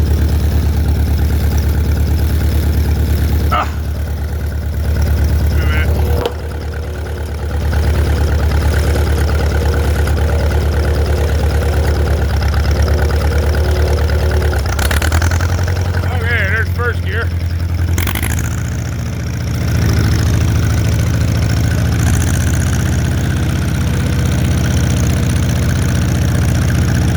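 An old Allis tractor engine runs loud and close with a steady low throbbing idle and mechanical clatter, briefly dipping and changing pitch, while someone talks over it.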